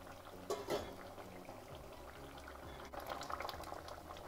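Sardine fish curry made with black pepper and gooseberry simmers in a pot, giving a faint, soft bubbling with occasional small pops and no voices.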